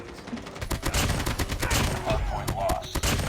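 A KA-47 rifle fitted with a GRU Combo Grip fires in Call of Duty Mobile, producing dense, rapid, loud automatic gunfire that continues without a break.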